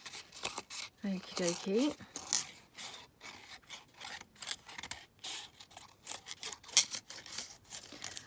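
Scissors snip and scrape through paper in quick, close bursts while cutting out a paper flower, with short spoken remarks in between.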